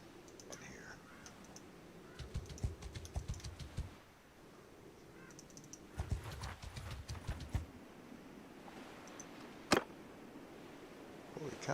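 Horse hooves galloping in the video game Mount and Blade Bannerlord, in two bursts of rapid clip-clop with a brief pause between, fairly close, followed by a single sharp click.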